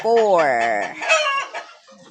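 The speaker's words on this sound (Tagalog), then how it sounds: "Ayan ang ating manok karong December 24." A bantam chicken gives a drawn-out rising call followed by a few short clucks, close and clear.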